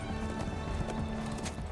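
A horse in the Lord of the Rings Online game gallops with quick rhythmic hoof clops and gives a short whinny, loud and close, all packed into a brief burst.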